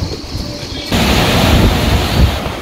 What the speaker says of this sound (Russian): Вот такой пляж.